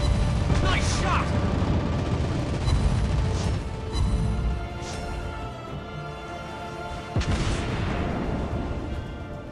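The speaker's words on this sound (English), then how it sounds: "So here I'm shooting at this Friedrich." Heavy battleship main guns from a Musashi boom in World of Warships Blitz, several loud blasts across the stretch, one near the start and a sharp one near the end, over steady game rumble and music.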